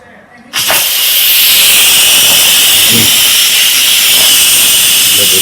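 A hot kitchen vent releases steam while turkey wings cook, a loud, sudden, continuous hiss that starts abruptly and holds steady, with faint knocks beneath.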